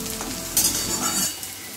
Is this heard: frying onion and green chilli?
yes